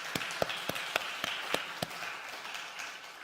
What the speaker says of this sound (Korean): 우리 찬양팀을 위해서 박수 한번 하실까요? 박수.